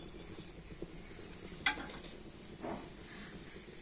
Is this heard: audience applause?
no